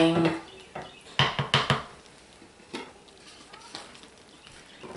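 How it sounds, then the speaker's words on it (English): Lye soap batter being stirred in a crockpot produces a cluster of scraping, thudding strokes against the pot's sides, louder at first then fading into softer scrapes, close and without talking. "to make sure I give it a good stir, everything off of the edges."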